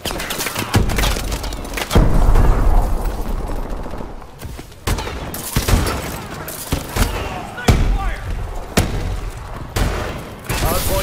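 A grenade blast and surrounding gunfire in Call of Duty: Advanced Warfare multiplayer, several loud sharp booms and shots spaced across the span, with a game announcer voice and speech heard underneath.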